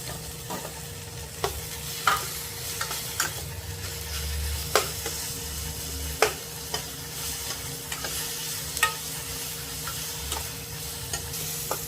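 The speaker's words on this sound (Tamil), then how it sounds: "நண்பர்களே, தக்காளி நல்லா வதங்கிக்கிட்டு இருக்குது." Tomatoes sautéing in a hot pan with regular spoon strokes tapping and scraping against the metal over a continuous soft sizzle, no talking.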